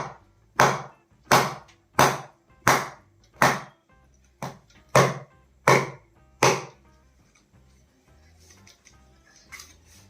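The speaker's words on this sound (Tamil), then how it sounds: "கட் பண்ணிட்டு இந்த விதையை வந்து ரெண்டாக வெட்டணும்" A knife chops through a palm seed for a traditional village palm-sprout dish: about nine sharp, close, evenly spaced strikes, each with a brief woody crack. Quieter handling noises follow.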